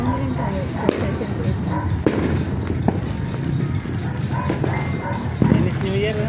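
New Year fireworks burst repeatedly at close range, loud sharp cracks and thuds over a constant rumble, with a dog barking and people talking nearby.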